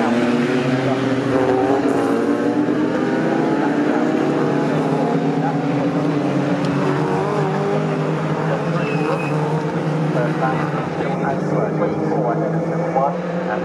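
Ginetta race cars thunder around the Snetterton circuit, a continuous loud engine roar that rises and shifts as cars pass, with a race commentator talking over it throughout.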